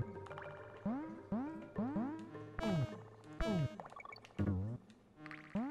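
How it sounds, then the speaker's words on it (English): Buzzing bees in the Donkey Kong Country video game, heard as loud, repeated rising and falling electronic sweeps that layer over busy game music and effects. "Little bees."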